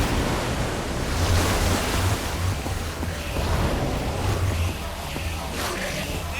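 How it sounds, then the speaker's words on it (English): Water gushes and churns in Minecraft Story Mode, a loud continuous rushing wash that swells and eases without pause and carries no voices. "I don't know how much water this thing is gonna kick out"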